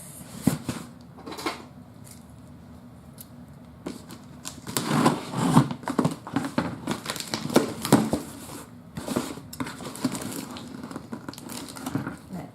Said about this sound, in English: let's open this box.